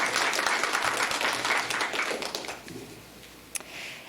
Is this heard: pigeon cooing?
no